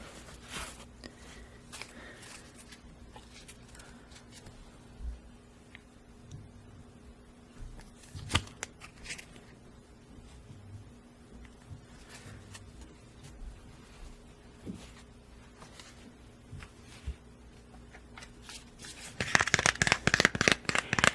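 An Etteilla-style tarot deck being handled: soft, sparse card rustles and small clicks in near silence, ending in a loud, rapid riffle shuffle of crisp flutters.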